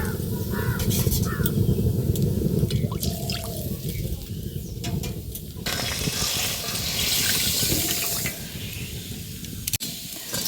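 Warm water runs steadily into a bowl of semolina cake batter, a close, continuous splashing hiss that shifts in tone partway through, with faint bird calls in the background.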